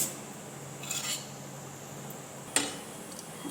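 A metal pan is set down on a kitchen stove, two brief clanks over a quiet room hum.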